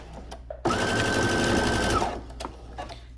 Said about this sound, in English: still sewing at 5/8 of an inch seam allowance all the way to the end